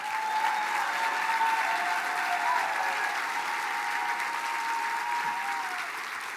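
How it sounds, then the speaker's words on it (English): A large audience applauds in sustained, dense clapping at a Mille Lacs Band of Ojibwe gathering, a steady wash of hands that holds evenly from start to finish with no voices standing out. "Round of applause."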